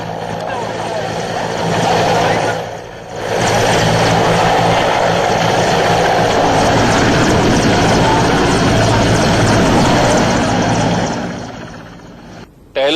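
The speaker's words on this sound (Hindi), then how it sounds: "वो कामयाब नहीं हुए तो एयरफोर्स के हेलीकॉप्टर की मदद ली गई।" An Air Force rescue helicopter flies over a flooded river area, its rotor and engine producing a loud, steady, close roar that dips briefly once and fades slightly at the end.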